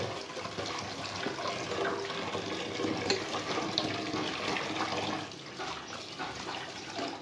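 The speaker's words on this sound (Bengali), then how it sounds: "এবার পাতাগুলো আমি দুবার তিনবার করে আমি ধুয়ে ঝুড়িতে করে তুলে নেবো।" Arum leaves are washed by hand in water, a continuous close splashing and sloshing with small drips that eases slightly toward the end. No voices are heard.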